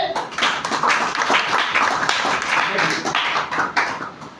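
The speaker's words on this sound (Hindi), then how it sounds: "विधान के लिए जोरदार ताली" A crowd claps in a room, a steady round of hand clapping that swells and lingers for several seconds at moderate loudness.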